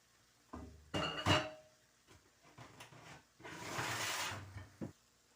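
Metal cooking pot set down on a home kitchen stove while simmering onions, giving a few clanks and clinks near the mic, then a longer hissing scrape, with no talk.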